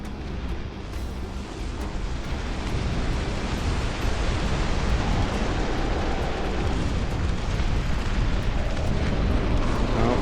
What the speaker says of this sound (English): Here come the bombers!